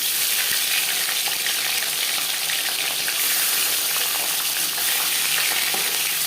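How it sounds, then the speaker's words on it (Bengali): A marinated aar fish head fries in hot mustard oil, producing a loud, dense, continuous sizzle close up with faint crackles throughout. "4 চামচ সরষের তেল গরম করে নেওয়ার পর দিয়ে দেব ম্যারিনেট করে রাখা মাছের মাথা মাছ।"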